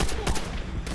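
Quick burst of rapid gunfire in the World War II shooter Call of Duty: World at War, several sharp close shots in fast succession within a second.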